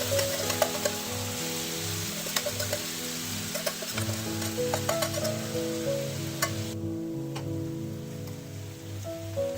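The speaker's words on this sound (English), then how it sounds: "Now adding the onion and capsicum." Chopped onion and capsicum sizzle steadily in a hot tava, a continuous crackling fry with scattered pops over a low background hum.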